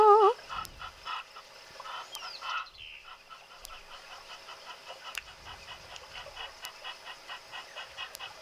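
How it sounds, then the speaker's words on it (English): Egyptian geese call in the wild at dawn, a run of repeated honking and cackling calls at a moderate distance, rising and falling over a quiet background with a few sharp ticks. "Good morning, Egyptian geese. We hear you."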